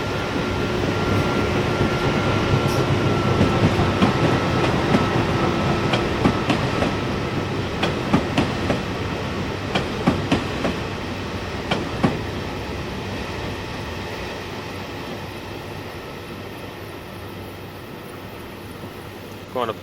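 A train rolls along the tracks in Train Simulator 2014, a steady, full rumble with rhythmic clickety-clack wheel clicks that thin out and settle into a quieter drone toward the end.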